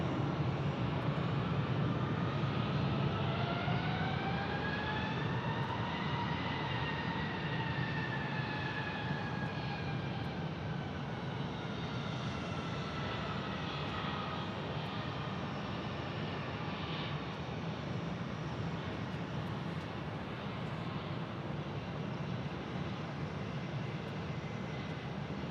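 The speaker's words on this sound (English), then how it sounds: "Firm landing by that 757." A Boeing 757 airliner landing at Phoenix Sky Harbor Airport gives a continuous distant jet roar with rising and falling whining engine tones that drift and fade over nearly half a minute, with no voices.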